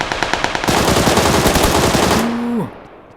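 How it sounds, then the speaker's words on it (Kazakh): Loud rapid automatic gunfire in PUBG Lite rattles for about two and a half seconds in a dense burst, ending with a falling whine before fading out. "Кім қайдан атып отыр?"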